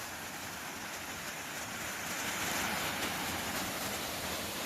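A stream flows about 15 to 20 metres upstream of a waterfall in the woods, producing a steady, soft broadband rushing of water that builds slightly, with no voices.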